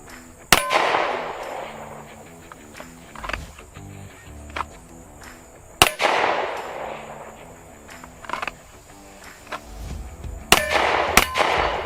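Live-fire handgun shots ring off a steel target outdoors: a few sharp, loud cracks spaced seconds apart, each followed by a metallic clang and brief echo, with quieter handling noises between.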